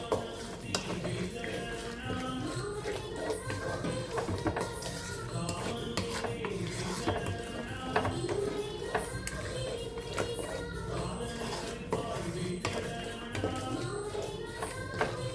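A spoon stirs jaggery into a brinjal curry in a pot, giving steady scraping, rubbing and light tapping that continues throughout at a moderate, even level.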